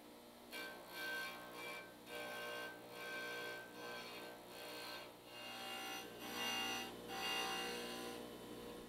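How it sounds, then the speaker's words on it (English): A disc sander shapes a purpleheart wood disc with repeated rhythmic grinding passes, each rasp swelling and fading. The sound is faint and steady, with no talking. "The disc sander will cut away the excess material and create a perfectly symmetrical disc."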